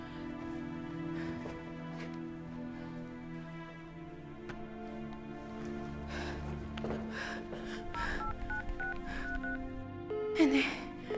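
A phone keypad dials an emergency number, its tones tapped in a short irregular sequence amid faint breathing and background stir, with the clearest tones near the end.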